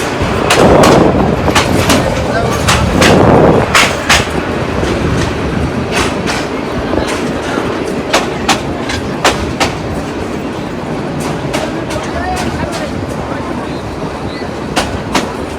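A passenger train rolls into a railway station in Gazipur district, its wheels clattering in a loud, rhythmic clickety-clack across the rail joints, with voices faintly mixed in behind the rumble.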